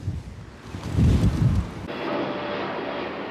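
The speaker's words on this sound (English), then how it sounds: "That's another aeroplane coming in." A passing aeroplane on its landing approach roars as a broad, steady rumble outdoors, swelling loudly for a moment before easing into a sustained, fairly near drone with wind noise over the microphone.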